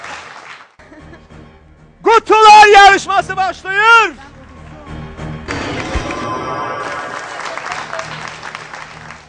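An audience at a 21 March holiday show applauds with a short burst of clapping, and an announcer speaks loudly over and after it.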